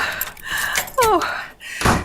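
In a radio drama, a door swings shut with a single solid thunk at a home entrance, heard close amid a panting, frightened woman's breathing.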